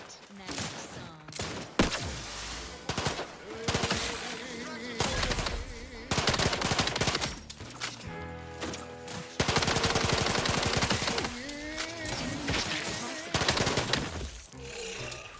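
Pistol fire in The Outer Worlds 2, loud rapid shots in dense bursts across the whole stretch, mixed with game sounds and spoken voices.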